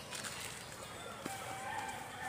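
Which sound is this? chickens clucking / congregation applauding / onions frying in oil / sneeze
chickens clucking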